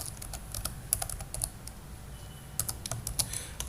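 Computer keyboard typed while writing Java code, a quiet, close patter of irregular keystrokes in quick clusters with short pauses.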